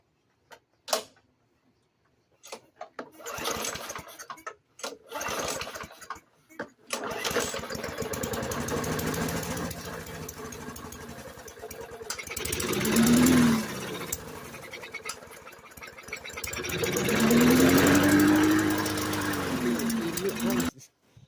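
A Murray 450 Series push mower engine running without its throttle spring, first pulled over with sputtering false starts, then catching and running loud and close with surging, uneven revs, while a person speaks at times.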